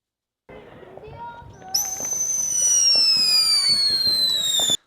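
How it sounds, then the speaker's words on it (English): A small Piccolo Pete firework fires close by, sputtering at first, then breaking into a loud, shrill whistle that holds and slowly falls in pitch, with scattered pops throughout. "Little firework action with little Piccolo Pete here"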